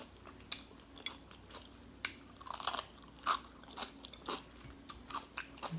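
Crunchy broccoli slaw being chewed close up, a series of crisp, sharp bites and crunches at an irregular pace, fairly quiet, with no talking.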